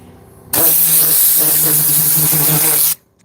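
A blast of compressed air from an air compressor nozzle blows moisture out of crevices in a car interior: one loud, steady hiss lasting over two seconds that starts and stops abruptly.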